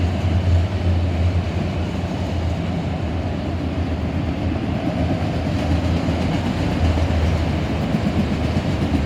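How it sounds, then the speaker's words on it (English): A short freight train of auto racks pulled by two locomotives rolls past at Oak Harbor. Its loud, continuous rumble and wheel roar on the rails are close and steady throughout, with no talking. "Pretty short train, even though it did have two engines on it."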